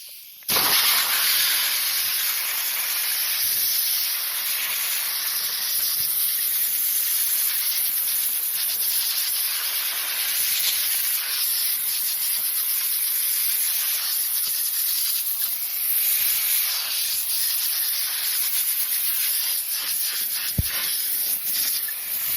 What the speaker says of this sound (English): Go to the other side and then blow the radiator itself out.